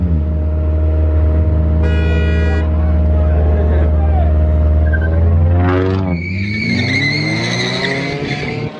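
Street race cars accelerate hard in Detroit, engines roaring and climbing steeply in pitch with tire squeal, loud and close, while a crowd shouts and cheers over the noise.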